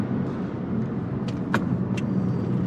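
Nissan Micra heard from inside the cabin while driving fast into a corner, with a steady low road and engine rumble throughout and a few brief higher rattles or squeaks near the middle.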